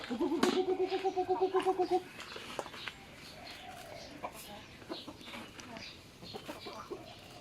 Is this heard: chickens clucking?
yes